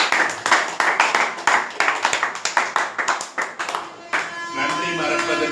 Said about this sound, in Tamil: நம்ம இல்லத்தின் சார்பாக வாழ்த்துக்களையும் நன்றினையும் கைத்தட்டி தெரிவித்துக் கொள்வோம்